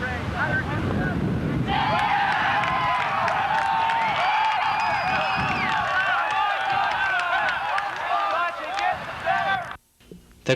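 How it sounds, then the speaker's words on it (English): A crowd at an outdoor ultimate frisbee match cheers loudly and continuously as Calgary scores into the wind, dense shouting and whooping under steady wind noise, cutting off sharply near the end. "The crowd shows their excitement as Calgary scores into the wind after a great backhand by Grant Burns."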